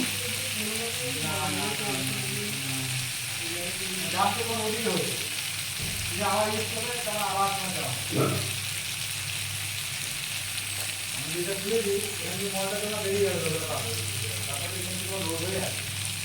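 Papaya curry with chili powder fries in a pan, giving a continuous hissing sizzle with occasional stirring clicks, while someone talks over it throughout.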